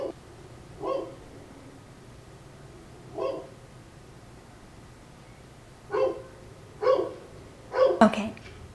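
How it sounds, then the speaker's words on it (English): A dog barks indoors in a home, five short separate barks spaced a few seconds apart, getting louder and more agitated toward the end, heard slightly in the background. "I'm sorry if you heard that dog."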